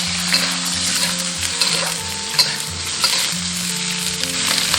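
Kohlrabi stir-fries in a hot wok with oil and soaked dried ingredients, a loud, dense sizzle broken by scraping stirs and a few light metallic clinks, close up with no talking.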